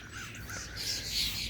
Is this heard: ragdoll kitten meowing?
no